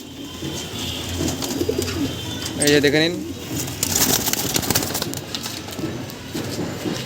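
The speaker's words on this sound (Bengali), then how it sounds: "লাল শিরা পায়রা" A pigeon gives a low, throaty coo in the middle while someone speaks, with faint background chatter and rustling around.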